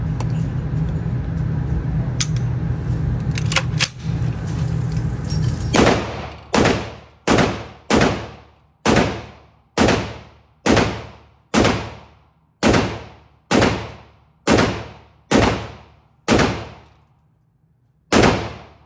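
Rapid series of about thirteen sharp, loud gunshots from a Smith & Wesson M&P AR-15 rifle fitted with a brass catcher, evenly spaced with ringing decays, following a few seconds of low rumbling background.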